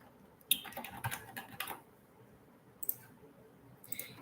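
Several quiet keystrokes on a computer keyboard as an origin and destination are entered into a freight rate search, a short burst of clicks followed by a few isolated taps.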